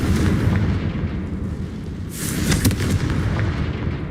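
A Confringo fire spell blast in Hogwarts Legacy: a loud, sharp burst of booming, crackling impact sound erupts midway over a constant rumbling game backdrop, then fades into continued low noise.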